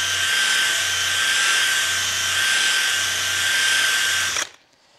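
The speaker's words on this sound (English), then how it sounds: "But here we go with the unicorn brush." A rotary unicorn horsehair brush buffs a soft beta warm wax finish, giving a loud, steady high-pitched whir that runs without a break for about four and a half seconds before cutting off abruptly.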